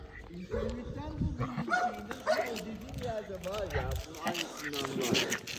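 Carlos, an American Staffordshire terrier, gives yips and whimpering barks outdoors in Istanbul, fairly close but modest in level, with people talking over much of it.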